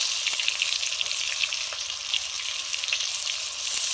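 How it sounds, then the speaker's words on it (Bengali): Eggplant pieces frying in hot oil in a home kitchen, a steady close sizzle and crackle that runs without pause, with no voices. "এবারে বেগুনগুলো ভাজছি।"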